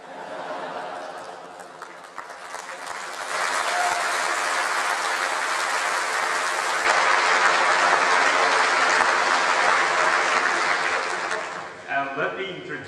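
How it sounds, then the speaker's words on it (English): Sustained applause fills a joint meeting of the United States Congress, a dense, even roar of clapping that swells midway, holds steady for several seconds, then tapers off near the end. "I never get such nice applause from the Japanese dialect."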